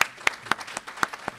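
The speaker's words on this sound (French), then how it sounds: "Je demande encore de l'applaudir encore une fois." Audience applause at a conference in honour of a speaker, a brief patter of scattered hand claps, close and uneven.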